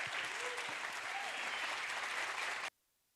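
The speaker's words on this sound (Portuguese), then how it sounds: "por favor, recebamos com palmas bem calorosas" Sustained applause from an audience as speakers are invited onto the stage at a Brazilian literary event, dense steady clapping lasting under three seconds before cutting off abruptly into silence.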